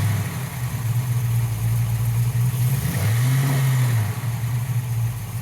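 A Ford Mustang engine with a failing fuel pump idling low and steady, then rising in one weak, short rev before sinking back to idle, loud and close throughout.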